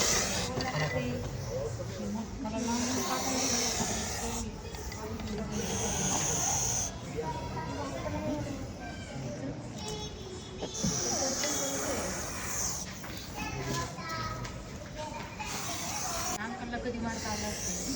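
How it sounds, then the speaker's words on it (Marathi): A Russell's viper hisses in loud, drawn-out breathy bursts that repeat at a steady pace, close by and mixed with people talking around it. "या सापाचा आवाज काय खतरनाक आहे म्हणून. आणि खरंच खतरनाक आवाज आहे याचा."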